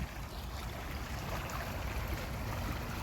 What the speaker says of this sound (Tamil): க்ளீனான தண்ணி ஓடுகிறது.